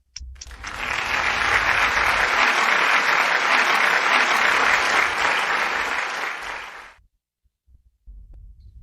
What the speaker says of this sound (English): With a big, big round of applause, let's welcome Dr. Deanna R. Coleman.